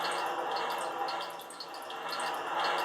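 Water droplets drip in the Zelda: Ocarina of Time water temple as its water dries up, a dense patter of small drips over a steady watery hiss, fairly close, with no talking.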